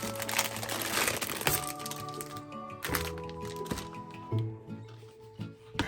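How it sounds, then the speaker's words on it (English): Crinkling plastic wrapping is pulled off a coconut shell bra from a dollar store, giving repeated close crackles and rustles with a few sharper cracks and thunks. "Start by removing the coconut bra from the wrapping."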